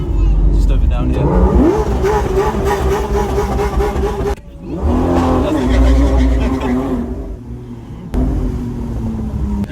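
A hot Lamborghini Aventador SVJ revs hard in repeated loud bursts, rising and falling with brief gaps between pulls, during the Gumball 3000 rally.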